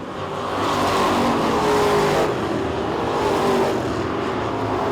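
Street stock race cars roar around an oval track at a championship heat, a loud continuous engine drone swelling and easing as the pack passes, with no talk over it.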